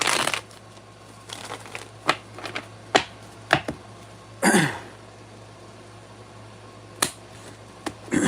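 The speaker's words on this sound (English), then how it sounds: "Make sure the cards are good and shuffled." Worn tarot cards being shuffled, scattered crisp riffles, slaps and snaps spaced irregularly over a quiet steady room hum, close to the microphone.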